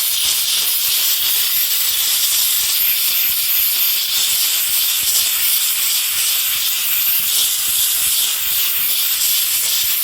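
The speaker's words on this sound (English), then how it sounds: "the hot steam with that little scrub brush really seems to help" A Wagner Spraytech On-Demand steam cleaner with a small scrub brush blasts hot steam onto a door: one loud, close, unbroken hiss that holds steady for the whole stretch with no talking.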